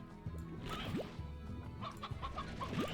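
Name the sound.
chickens clucking in a video game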